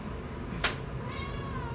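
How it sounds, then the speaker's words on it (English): A pet cat lets out a single short meow close by, with a sharp brief onset followed by a softer trailing tone over steady room noise. "my cat is sad"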